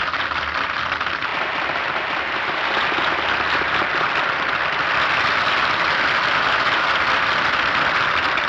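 Thin, scattered applause from an opera audience in a film scene, a steady muted patter of clapping that carries on without swelling or cheering.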